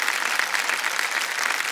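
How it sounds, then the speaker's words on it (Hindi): Studio audience applause on the TV quiz show Kaun Banega Crorepati season 13, greeting the expert: brief, dense, even clapping from a crowd, loud and close, with no voices over it. "एक बार तालियों के साथ उनका अभिनंदन करते हैं"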